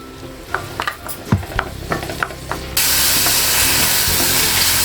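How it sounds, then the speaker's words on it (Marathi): Ginger garlic paste hits hot oil at the side of a pan of chicken korma. Scattered clinks and scrapes of stirring come first, then a sudden, loud, steady sizzle that fills the rest of the clip. "इथे साईडला मी तेलामध्ये चांगली गरम करून घेते"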